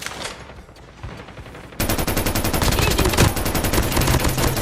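PPSh submachine gun in Call of Duty Mobile, a few scattered shots and then a loud, rapid sustained burst of automatic fire, close and continuous to the end.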